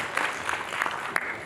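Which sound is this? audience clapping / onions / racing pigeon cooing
audience clapping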